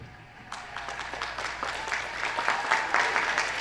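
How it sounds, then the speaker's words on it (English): Applause at a university pageant honoring former king and queen title holders, starting as a few scattered claps and swelling into steady, fuller clapping from the audience. "Please, a round of applause in recognition for our former king and queen."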